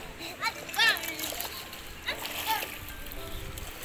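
Children splash and play in a swimming pool at a budget villa in Puncak, with bursts of splashing water under excited kids' voices and an adult talking nearby.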